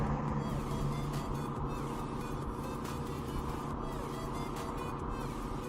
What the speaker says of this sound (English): how loud are your tyres, mate?